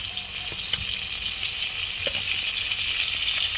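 Ginger paste and chilli paste fry in hot oil with a steady, bright sizzle, briefly stirred with a few soft scrapes, while the hiss stays even and close throughout.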